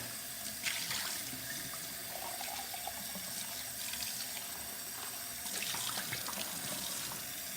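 Tap water runs steadily into an opened can for rinsing out hotdog chili, a continuous close splashing stream with slight swells and no talking.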